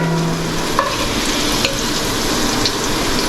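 Partially cooked potatoes frying in hot oil for muri ghonto, a loud, steady, dense sizzle filling the whole stretch with a few faint clinks of a utensil over it.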